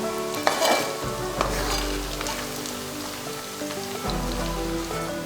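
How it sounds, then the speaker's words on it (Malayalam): Tapioca (kappa) chips fry in hot oil on a low flame, giving a dense, crackling sizzle like rain on a surface, steady and close, with faint stirring knocks and no voices. "ഇതിന് നല്ലവണ്ണം ഫ്രൈ ചെയ്തെടുക്കുക. നല്ല ക്രിസ്പി ആയി കിട്ടണം നമുക്ക്."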